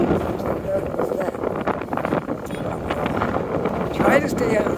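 Wind batters a microphone on Young Street in an urban North End neighbourhood, a constant low rumble with rough bursts that swell near the end, loud and close, with no speech.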